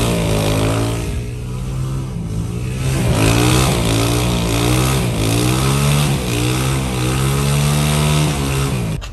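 A motorcycle engine runs nearby at a steady idle, its throaty rumble rising and falling slightly as the throttle is blipped.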